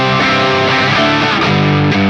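Distorted electric guitar played through a Tonocracy Classic Plexi amp simulator, sustained chords and notes ringing continuously and loud for about two seconds, alone with no voices.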